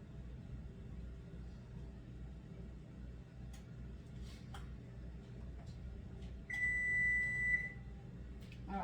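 A kitchen timer buzzer sounds once, a steady electronic beep lasting about a second, loud and clear over a low continuous rumble while cream is being canned.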